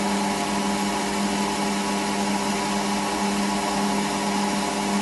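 A metal lathe takes a final roughing cut on a part for a Webster engine build, a steady, even machine whine and hum that runs unbroken at constant loudness, with no speech.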